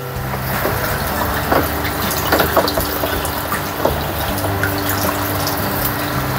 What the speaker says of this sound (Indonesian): lalu kita isi air yang di sini dengan air dari sumber, air baku